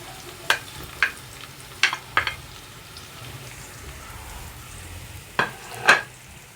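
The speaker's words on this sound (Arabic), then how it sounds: "هننزل البصل الاول نتبله تتبيله حلوه كده" Onions frying in a pan, seasoned for a beef tongue dish, with a soft, steady sizzle under a handful of sharp crackles and pops at irregular intervals, close by, with no talk.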